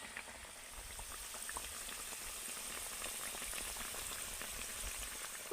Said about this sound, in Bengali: উল্টে পাল্টে একটু লাল লাল করে ভেজে নিতে হবে